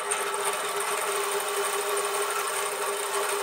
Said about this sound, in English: at least this coil runs, even at lower voltages